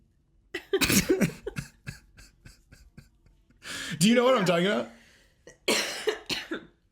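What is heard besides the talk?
coughing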